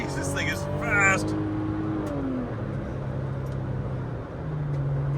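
A fast car on the road with a roof basket mounted, a steady engine drone and wind roar throughout, with a voice talking over the start.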